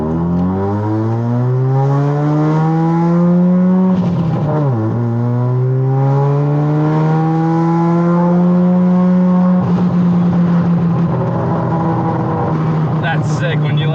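A 460-horsepower Mazda RX-7's engine drones loudly at high revs, pitch rising steadily with a brief dip mid-way, heard close from inside the car.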